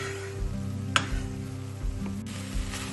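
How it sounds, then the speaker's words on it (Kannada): Grated coconut frying in a pan together with beans, carrot and potato, giving a steady soft sizzle with a few faint scrapes and a single brief clatter, and no voices. "ಸ್ವಲ್ಪ ಫ್ರೈ ಆಗಲಿ, ಯಾಕೆಂದರೆ ಈಗ ನಾನು ಕಾಯಿ ತುರಿ ಹಾಕಿದ್ದೀನಿ"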